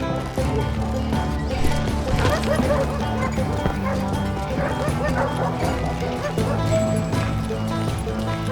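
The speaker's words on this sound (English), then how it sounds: "Wild dogs, tooth and nail. They were coming at me from all directions." Wild dogs barking and yipping in the Western video game Call of Juarez Gunslinger, a dense, continuous barking amid game noise and hoofbeat-like clatter, with a voice faintly underneath.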